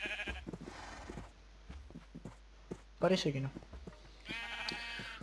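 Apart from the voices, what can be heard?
sheep bleating in modded Minecraft video game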